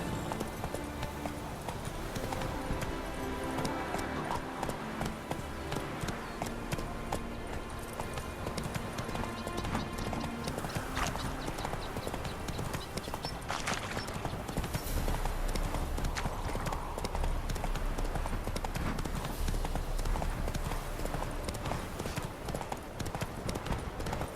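Hooves clip-clop in a quick, steady galloping rhythm as a horse runs in The Witcher 3, with loud game sound around it.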